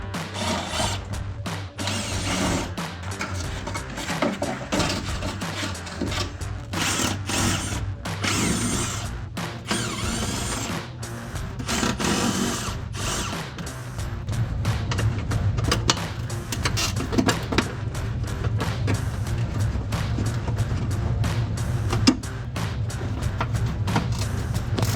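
A wrench loosening the front bumper bolts on a 2016-2023 Toyota Tacoma during a Barricade HD stubby bumper install, with steady mechanical clicking and clatter over a constant low hum, close and fairly loud throughout.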